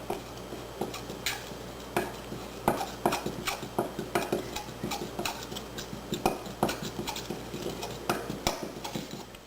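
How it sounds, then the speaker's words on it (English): Flour is worked into eggs in a well for homemade pasta noodles with quick, rhythmic clicking and tapping of a utensil against the bowl, sharp repeated ticks running steadily without speech. "slowly just start mixing, incorporating a little bit of flour with each mix."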